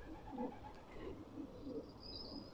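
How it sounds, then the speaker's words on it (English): Pigeons coo softly from their nests in an old church roof, several low rounded calls repeating at an unhurried pace, somewhat distant over a steady outdoor background hiss. "Look at that, there's still pigeons"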